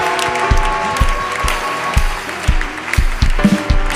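A church congregation applauding, with dense continuous clapping and rhythmic thumps of beats under it, loud and close throughout.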